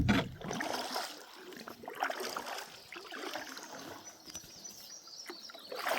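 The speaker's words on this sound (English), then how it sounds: "You can hear that water dripping off. It's still just dripping off of those mountain over there." Water trickling and dripping off a mountain bluff beside flooded ground with crystal clear water, a steady close patter and trickle running throughout with no talk.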